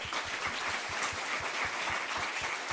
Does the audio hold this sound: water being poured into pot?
no